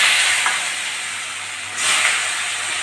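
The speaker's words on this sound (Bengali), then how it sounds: "আলুগুলো ভালো করে ভেজে নেব।" Potatoes coated in salt and turmeric fry in hot oil with cardamom and bay leaf, giving a steady loud sizzling hiss that swells again partway through.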